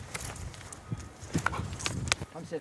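Hooves of a dressage horse in the Camargue clip-clop in an uneven walking rhythm, fairly close, with faint voices in the background.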